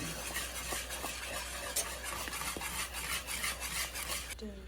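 Spoon stirring milk gravy seasoned with salt and pepper in a pan, a continuous scraping swirl with light clinks over a soft sizzle, close and steady.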